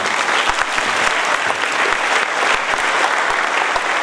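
Audience clapping loudly after a Kannada children's stage play, a dense, sustained round of applause with a few sharp individual claps standing out.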